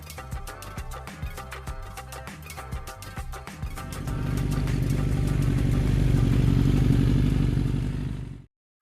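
Motorcycle engine on a road, first a ticking, clattering idle, then revving up into a steady louder drone for several seconds before cutting off abruptly.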